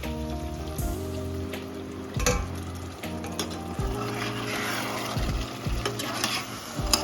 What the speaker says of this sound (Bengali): থালার মধ্যে যে জলটা গরম করে রেখেছিলাম ওটা সামান্য ঢেলে দেবেন।